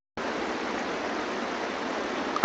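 Muddy Water attack effect in the Pixelmon Minecraft mod: a steady, rushing water whoosh like a stream, starting abruptly and holding loud and even for about two seconds.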